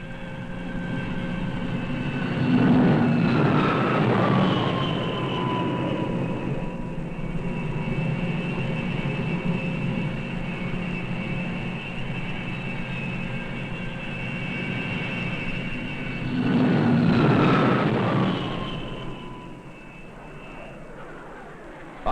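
Jet aircraft on the aircraft carrier Enterprise roar steadily for a long stretch, with two louder passes swelling and fading as engines whine at high pitch under constant deck noise.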